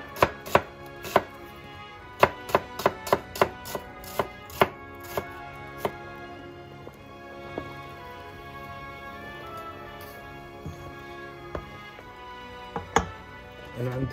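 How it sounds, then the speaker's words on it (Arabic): A knife chops onions on a cutting board, first in quick bursts of crisp, close strikes, then in slower, scattered cuts over a quiet background. "بدنا نقطع البصل، نجهزها قبل ما يصير العدس"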